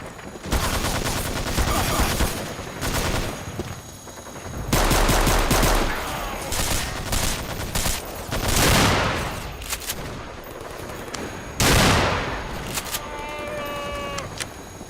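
Rapid gunfire from the video game Killzone: Source rings out in loud, dense bursts and sustained automatic volleys, with sharp single shots and other game effects mixed in across the whole stretch.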